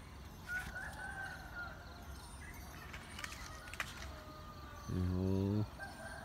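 A fighting cock crowing at a chicken farm: one loud, close crow near the end, over faint background noise and scattered clucks and rustling.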